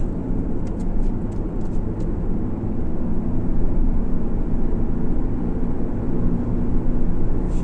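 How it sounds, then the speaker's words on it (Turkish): A Fiat Egea 1.4 Fire petrol engine pulls hard at full throttle in third gear from about 40 km/h, a steady loud drone of engine and road noise heard from inside the cabin with no talk. "Şimdi arkadaşlar 40 kilometreden 3. vitese dip gaz yaptım ben."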